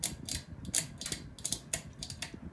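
Hampton Bay Maplewood 52-inch ceiling fan switching speed, with faint irregular mechanical clicks and ratcheting ticks in a quiet setting at night, no voices.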